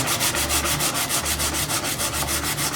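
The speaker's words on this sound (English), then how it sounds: "go over the entire Snowsnake with some fairly coarse sandpaper" Rhythmic back-and-forth scraping of coarse sandpaper on a wooden snowsnake, loud and close, with strokes repeating at a steady quick pace.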